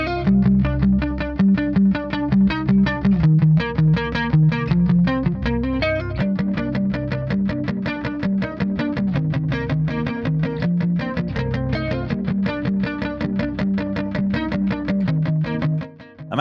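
Distorted metal guitar riffs play through a Blackstar Beam Solo pocket amp with a filter compressor before it, chugging palm-muted rhythm and chords sustaining loudly for the full stretch, ending with a brief fade.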